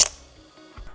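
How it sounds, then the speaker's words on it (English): A camera's mechanical shutter fires with a sharp, crisp snap at the very start, then fades into quiet, with a faint second mechanical click near the end. "The sound that the mechanical shutter makes is just wonderful."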